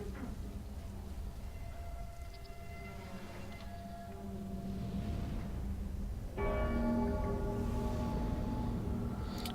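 A large bell rung in the video game Dark Souls 3 after a lever is pulled, sounding as sustained metallic tones over a low rumble, swelling louder partway through with a fresh strike and lingering resonance.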